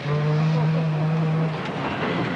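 MG Metro 6R4 four-wheel-drive rally car at a 1985 rallysprint, engine holding a high steady note as it drives fast, then fading slightly toward the end.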